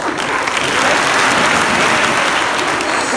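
An audience of students claps together at a school gathering: loud, dense, steady applause that fills the whole moment without pause.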